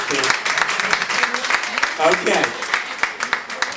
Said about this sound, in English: let's have a big round of applause for Christine